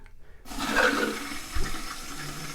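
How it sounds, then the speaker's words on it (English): Water rushes and gurgles into a toilet tank of a toilet that won't stop running, starting suddenly after a brief silence and continuing as a steady filling flow. "I'm going to turn on the water"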